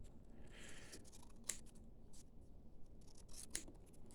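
Scissors snipping paper slips, a few quiet crisp cuts spaced out over a faint background, close to the microphone, with no talking.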